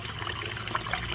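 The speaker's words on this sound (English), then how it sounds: "as you can see, we got our pump running. Nice" Water from a running pond pump flows and splashes steadily into a garden pond. The trickling wash is close and even, with no talk.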